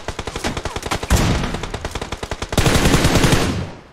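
Rapid automatic gunfire in BGMI, a battle royale video game, with fast evenly spaced shots in close loud bursts, a brief pause and then a heavier sustained volley.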